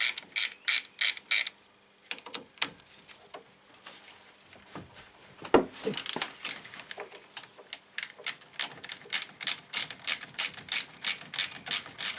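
A ratchet loosening the brake caliper bolts on a 2001-2005 Toyota RAV4, loud rhythmic clicking strokes close by, a pause with faint rubbing, then more regular rapid ratcheting.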